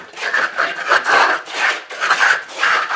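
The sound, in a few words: trowel skipping drywall mud texture onto wall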